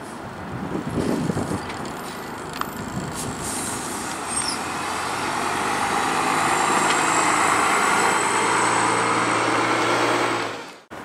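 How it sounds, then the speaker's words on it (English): A Valley Line bus on route 22 pulls out of Blackburn bus station, its engine rising into a steady, building drone with a hiss of air brakes early on, close and loud before cutting off abruptly. "pulling out now is another of the Valley Line ones on the 22"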